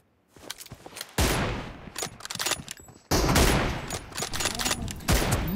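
Rapid bursts of gunfire in the video game PUBG, in a 1v1 room match, crackle in loud clustered volleys that start and stop in bursts over a few seconds.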